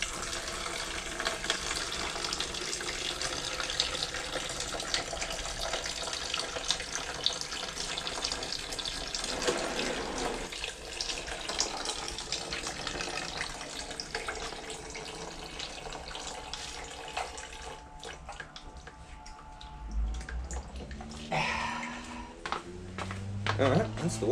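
Water drains in a continuous splashing stream from the cooling system of a Suzuki SV 650 motorcycle, with people talking over it and the flow tapering off near the end.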